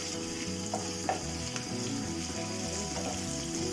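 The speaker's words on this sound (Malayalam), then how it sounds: "ഒപ്പം കറിവേപ്പിലി നന്നായിട്ട് അതൊന്ന് ഫ്രൈ ആവണ വരെ ഇളക്കി കൊടുക്കാം." Green chillies and curry leaves frying in oil for a pomegranate and wild lime pickle, a continuous close sizzle with light stirring scrapes, under a steady background hum.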